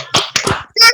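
Children in an online class give a rhythmic "tepuk semangat" spirit clap, a quick run of close, sharp hand claps and slaps with short gaps between bursts, with a brief vocal shout mixed in.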